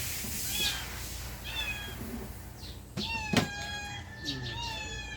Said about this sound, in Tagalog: May nagmamiyaw-miyaw na kagad.